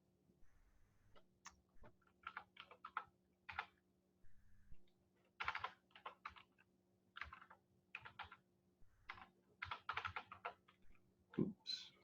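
Credit card details are typed on a computer keyboard in close, quiet bursts of rapid clicky keystrokes separated by short pauses, with a faint steady hum beneath and no voices.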